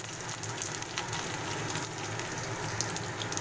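Whole cumin and garlic frying in hot oil give a faint, steady crackling sizzle with tiny scattered pops, low and continuous throughout.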